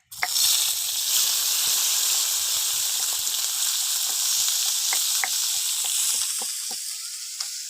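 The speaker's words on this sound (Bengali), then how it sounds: "এবার মাছ ভেজে নেব" Small mourala fish hiss and crackle as they fry in hot oil, starting with a sudden loud burst that settles into a continuous close sizzle with scattered pops.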